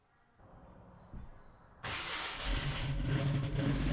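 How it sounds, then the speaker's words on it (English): The carbureted V8 of a 1972 Ford Mustang cranks and fires up, jumping from a quiet lead-in to a loud, steady, rumbling idle close by. "you can't beat the sound of a carbureted V8"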